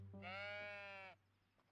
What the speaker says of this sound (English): What about the sheep?